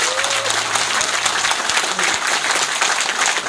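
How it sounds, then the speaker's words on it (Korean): Loud, dense audience applause fills a hall at a Democratic Party campaign office opening in Yeonsu, Incheon, a sustained crowd of clapping hands heard close and without pause. "한번 박수 한번 쳐주십시오"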